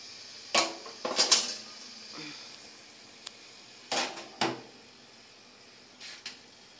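A spoon scrapes and knocks against a pot of congee, a few sparse clinks and scrapes in short clusters with quiet gaps between.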